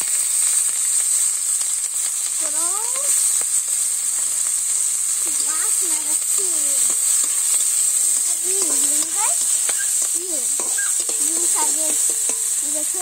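Onion and green chillies sizzle steadily in hot oil for a jute-leaf greens dish in a village kitchen, a constant bright frying hiss with occasional stirring clinks and faint chirps in the background.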